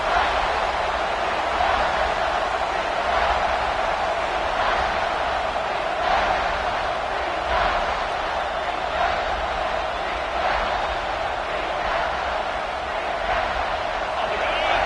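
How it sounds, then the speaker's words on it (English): A big college football stadium crowd, Texas A&M vs Texas, roars steadily in the distance, a broad sustained wash of cheering and noise with faint swells, no break throughout. "the crowd really making some noise now"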